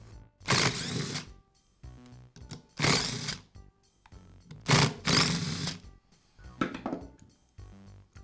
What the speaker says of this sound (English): Now I'll remove the 4 screws that secure the head to the pump.